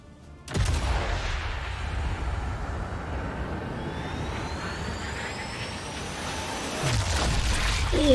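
A sharp, loud sniper rifle shot from Sniper Elite 5 cracks out early, followed by a long rumbling, whooshing tail and a second heavy blast near the end, with no talking over it.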